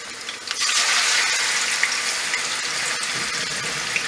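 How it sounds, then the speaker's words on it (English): Pieces of pork sizzle in a hot pan for a brown stew, a loud steady hiss with faint crackles that starts abruptly and stays even, with no talking. "So I'm going to fry these up a little bit."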